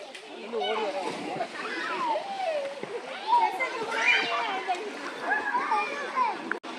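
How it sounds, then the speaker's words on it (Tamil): Water rushes and splashes at a bathing spot where a stream feeds toward falls near Srivilliputhur. It keeps up a steady watery wash beneath nearly continuous talking, including children's voices. "இதுதான் அந்த தண்ணி வர இடம்"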